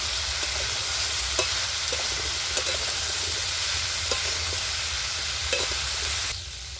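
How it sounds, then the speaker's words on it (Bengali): Potato and papaya curry with salt is stir-fried in a pan, with a continuous close sizzle and a few soft scraping stirs, ending in a sudden quieter drop near the end. "তো নুনটা দিয়ে আমি আবারও ভালো করে কষিয়ে নিচ্ছি।"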